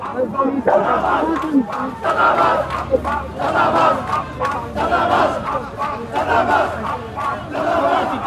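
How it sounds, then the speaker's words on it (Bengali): A protest march crowd in Bangladesh chants political slogans in unison, rhythmic massed voices rising and falling steadily throughout, close and loud with dense overlapping shouting. "মির্জা আব্বাস চাঁদাবাজ এবং বিভিন্ন নেতাকর্মীদের নাম ধরে তারা স্লোগান দিচ্ছে"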